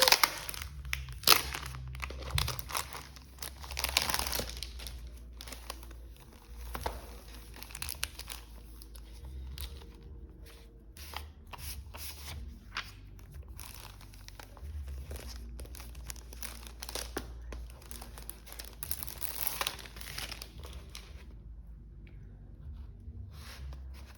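Paper and plastic packaging crinkles and tears as a Traveler's Notebook parcel is unwrapped, close and continuous with bursts of rustling and ripping and no talk.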